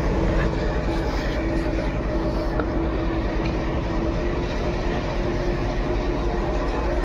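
A moving train heard from inside the guard's brake van: a continuous close rumble and rattle of the wagon on the rails, with a faint steady tone running beneath.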